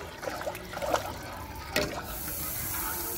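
Goat head and trotter soup is strained, liquid pouring and trickling at low level with a few splashy bursts, then a steady faint hiss.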